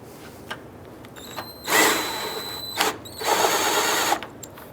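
Power drill or driver tightening a bolt on a 2004-2009 Dodge Durango, a few short whirring bursts of increasing length between quiet pauses and light mechanical clicks.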